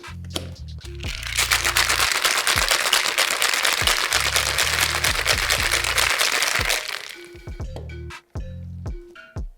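Vigorous rattling of a cocktail shaker full of ice as a Hurricane cocktail is shaken, a dense, loud, continuous clatter for several seconds between short bursts of background music.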